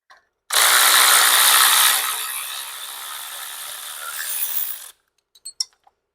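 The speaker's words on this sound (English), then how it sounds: "take the outer spring plate and the springs off of the stock Harley-Davidson clutch pressure plate" Removing springs from a stock Harley-Davidson clutch pressure plate with a power tool: one continuous whirring, ratcheting burst of about four seconds, loud and close, then a few small metallic clinks.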